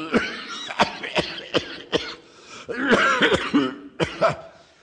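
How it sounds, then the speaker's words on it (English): A man coughs repeatedly in harsh, hacking bursts, with a brief pause and a strained throat-clearing in between. "How long have you had that cough?"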